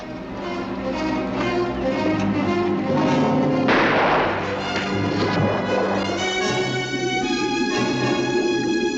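A rifle shot fired at a diver lands as one sharp, loud, booming report midway through, its echo fading into tense background music; no one speaks.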